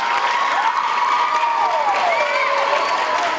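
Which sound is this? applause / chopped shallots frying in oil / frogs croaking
applause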